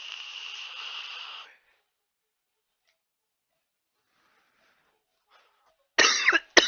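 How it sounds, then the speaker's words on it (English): A sharp exhale and hiss from a vape, then silence, followed by a couple of harsh, close coughs near the end. "Why can't I just hit a vape like a normal human? Why I gotta cough every single time"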